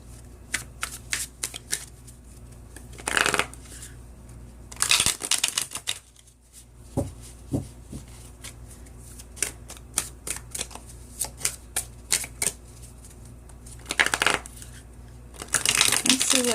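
Tarot cards are shuffled close up in a run of crisp, rapid riffling bursts and soft clicking card taps, with brief quiet gaps between rounds.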